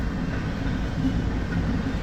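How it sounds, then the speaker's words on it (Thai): A very long freight train of oil tank cars rolls past with a steady, loud low rumble and faint rhythmic clatter of wheels on rails, with no voices. "รถไฟดียาวที่สุดในโลกครับดูเลยครับ"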